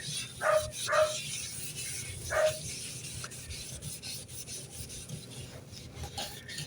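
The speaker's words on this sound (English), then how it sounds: "has that sitting after I scrub it, then I go ahead and do my second sink" A porcelain sink is scrubbed by hand, producing soft, continuous rubbing and rasping strokes with a few louder swipes early on, close but fairly quiet, with no talking.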